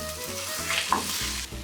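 Beaten egg that was frozen and thawed, cooking as an omelette being rolled in a frying pan, giving a soft continuous sizzle with a few faint scrapes and shifts from turning the egg, close and quiet, without talk.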